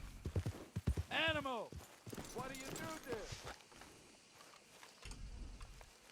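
A horse's hooves clip-clop along at a walk in Red Dead Redemption 2, a quiet rhythmic plodding under someone speaking and occasional whinny-like game sounds.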